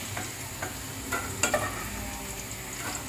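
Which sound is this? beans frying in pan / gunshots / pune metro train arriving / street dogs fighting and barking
beans frying in pan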